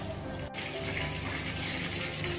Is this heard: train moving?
no